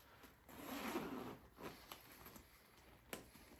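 A leather vest's zipper is run up in one long, close rasp. A few short zip tugs and small fabric rustles follow in a quiet setting.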